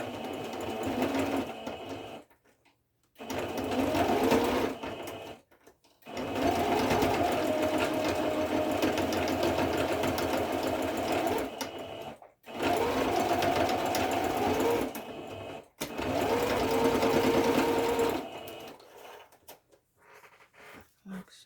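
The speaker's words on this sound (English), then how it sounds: "So I'm stitching just backwards and forwards, and just make sure everything is sewn down." A sewing machine stitches backwards and forwards on a handmade journal in several steady whirring runs separated by short pauses, with someone speaking between and over the bursts.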